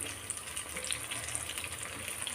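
Small banana fritters (pazham pori) frying in hot oil, a steady soft crackle and hiss throughout with faint intermittent bubbling, no voices.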